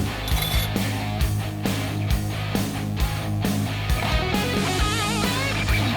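A bolt is being loosened on a Poulan push mower with a Kohler XT675 engine, producing a close, rapid run of mechanical ratchet clicks and metallic ticking with rhythmic strokes, alone without speech.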